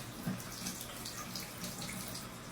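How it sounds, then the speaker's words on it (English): Hot water runs steadily from a tap into an LED-lit sink, a constant close hiss and splash with no talking. "this will come off if you run it under hot enough water"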